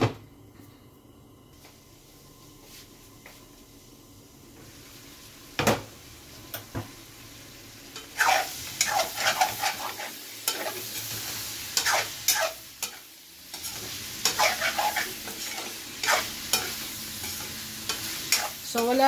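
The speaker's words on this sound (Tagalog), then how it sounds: "isasangkot siya lang natin ito" Pork dinuguan sautéing in a pan, quiet at first, then a close sizzle with repeated clanking stirs and scrapes of a utensil against the pan.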